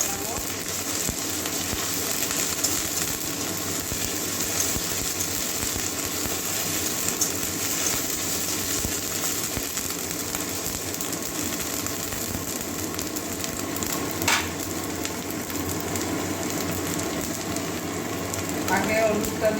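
Ginger garlic paste fries in a pan, giving a steady, soft sizzle that runs throughout while a person talks over it.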